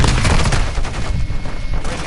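Rifle fire from the 45-70 Government in Modern Warfare 2 (2022), loud close shots with booming reports that decay over the first second before a fainter follow-up, no talk.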